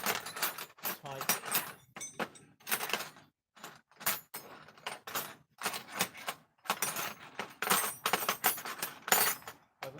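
An assortment of metal spanners being picked up and set down on a workbench, bursts of clanking and jangling metal close by, separated by short pauses.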